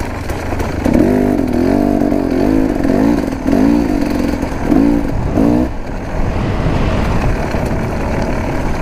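A KTM 300 enduro motorcycle engine revs and drops in repeated surges, loud and close, as the bike rides downhill over rough ground with steady mechanical roar underneath.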